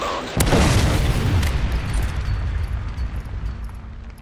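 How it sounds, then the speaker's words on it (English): A Predator missile strike detonates in Call of Duty: Modern Warfare 3, a loud, close boom that breaks out suddenly and then rolls on as a long, rumbling decay. "Friendly Predator missile inbound."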